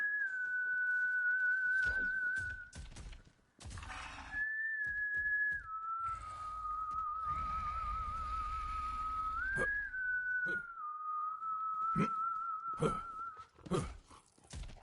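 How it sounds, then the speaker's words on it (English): A person whistles a wavering, sustained tune in the video game Borderlands 3, near and clear, with short breaks and a few clicks and thumps between phrases. "Someone was whistling."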